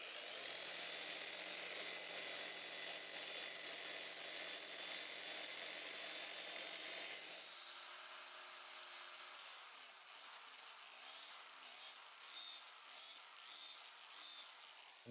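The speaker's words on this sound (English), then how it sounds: "I'm going to, sand these scuffs out with a 6-inch sander." A 6-inch power sander with 80-grit paper grinds scuffs out of a propeller blade, a continuous high whirring abrasive roar that shifts pitch and load partway through, close and loud with no talking.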